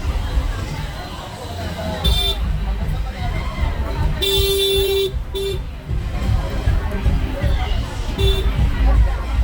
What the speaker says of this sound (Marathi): हे बघा गर्दी बघा किती.